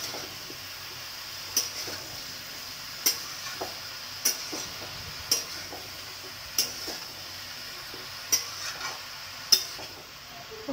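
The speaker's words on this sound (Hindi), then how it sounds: "सब्जी मैं छौंक दी हूँ" Vegetables sizzle softly in a pan after tempering, a faint steady frying hiss punctuated by regular sharp clicks of a spoon stirring against the pan, with no talk.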